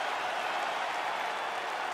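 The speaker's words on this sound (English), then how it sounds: "Stand and cheer, ladies and gentlemen." An arena crowd applauds and cheers after a five-round UFC fight, a dense, even wash of clapping and crowd noise sustained at steady loudness throughout.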